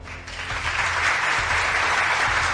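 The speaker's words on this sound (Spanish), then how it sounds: "Un aplauso para esta mujer, de verdad." Audience applause after a speech on Venezuela and Cuba, loud and sustained clapping that fills the whole stretch at an even level.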